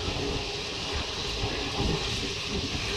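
Passenger train running from Khordha to Berhampur, heard from inside the carriage as a steady, loud broadband rumble and hiss with faint rhythmic rattling, no voices.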